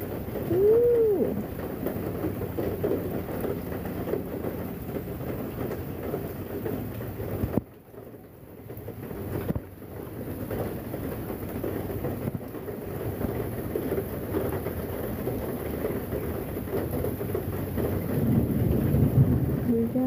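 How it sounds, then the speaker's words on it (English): Thunder rumbles low through a steady rainstorm, with a dull roll that fades into a brief lull before rain and rumbling swell again toward the end; no talking. "We got some thunder. Thunder tonight."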